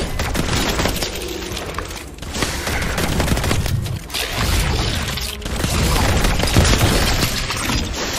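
Sustained enemy gunfire in My Time at Sandrock, a dense fusillade of rapid shots and shattering impacts rolling on loudly for several seconds without letup.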